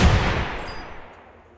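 A single gunshot in a narrated horror story rings out as a loud, sharp report at the start, then fades through a long decaying tail over about a second and a half, with no talking.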